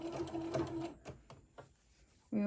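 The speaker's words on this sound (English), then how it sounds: "let's start sewing here. When I go over this elastic, let's do a back stitch over it" A sewing machine stitches elastic onto a DIY fabric face mask in short, rapid bursts with pauses between, close and moderately loud, ending with a fresh run of stitching.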